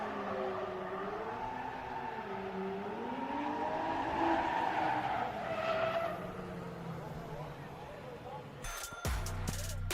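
Drift cars battle through a lap at a grassroots drifting competition, engines wailing up and down in pitch with squealing, skidding tires. The sound is continuous and loud until an abrupt cutoff near the end.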